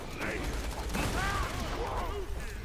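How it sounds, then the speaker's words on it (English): Gunfire in the video game Borderlands 2, a dense fusillade of shots and mechanical weapon noise with an enemy nearby, loud and continuous for a couple of seconds, with a voice speaking over it. "Oh, they're shooting a face McShooty over there"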